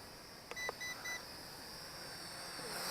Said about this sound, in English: I heard 3 beeps there.